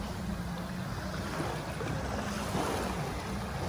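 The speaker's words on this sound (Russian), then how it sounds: "Сейчас волна придет, я скажу, когда" Ocean surf rolls onto a beach on Zanzibar, Nungwi or Kendwa, a continuous loud wash of breaking waves mixed with gusty wind buffeting the microphone, with no pause throughout.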